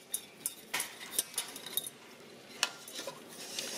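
A utensil stirs a béchamel sauce thinned with cold milk in a pan, making irregular clinks and scrapes against the metal, close and fairly clear with no talking.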